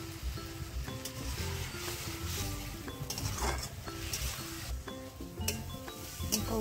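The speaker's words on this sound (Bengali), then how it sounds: "আলুটাকেও ভালো করে কষে নেব।" Potatoes sauté in a spice paste for a prawn curry, a moderate sizzle under stirring clinks and scrapes against the pot, with a steady tonal background drone running throughout.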